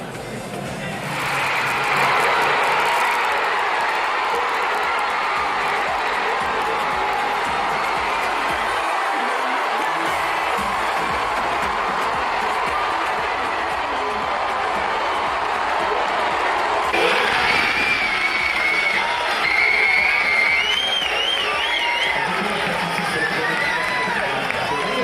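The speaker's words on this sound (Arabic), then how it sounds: "هكذا كانت فرحة الجمهور المغربي في الدار البيضاء أولا ثم في العاصمة" Moroccan football fans celebrating in Casablanca after a win over Spain: a dense, roaring crowd cheers and shouts continuously, with whistles, horns and scattered voices rising over the din, loud and sustained throughout.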